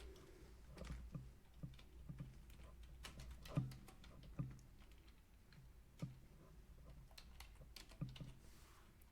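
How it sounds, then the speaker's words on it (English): Text being typed on a computer keyboard while making a banner design in Canva, a quiet, steady run of light key clicks with a few sharper taps, close up and with no talk. "I will just type in here, Susie's graphics."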